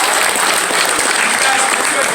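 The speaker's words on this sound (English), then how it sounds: "let's give these guys a round of applause" A crowd claps steadily throughout, dense and sustained applause filling the space without pause.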